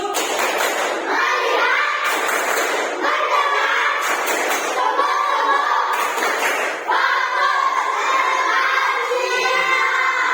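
A grade 4 primary school class does a rhythmic clapping chant, with sharp claps in repeated bursts alternating with children's voices shouting in unison, loud and close.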